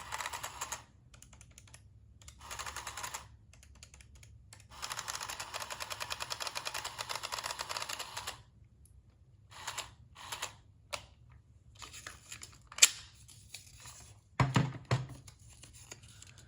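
A 10-digit printing calculator runs its print mechanism, giving bursts of rapid mechanical clattering and ratcheting separated by short pauses and a few isolated clicks, close and fairly loud with no talking.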